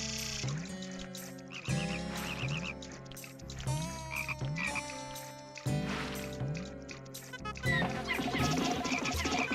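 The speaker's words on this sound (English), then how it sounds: "Attack the frog! Overwhelm it!" Repeated croaks from a frog enemy in a Pikmin video game, rising over a dense, loud game soundtrack with rhythmic musical layers and no talking.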